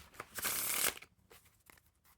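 A deck of Jurassic Park playing cards by Ellusionist gets a brisk riffle shuffle, a short rushing flutter, then a handful of light clicks as the cards settle together.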